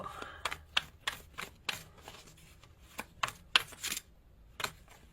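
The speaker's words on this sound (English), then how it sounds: "I know the shuffling can be annoying sometimes" Tarot cards are shuffled in a series of quick, close riffling bursts and slaps, irregularly spaced, crisp and fairly quiet against a still room.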